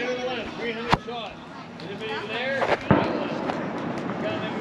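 July Fourth fireworks pop in a few sharp bangs, one near the start and a couple later, beneath excited talking voices outdoors.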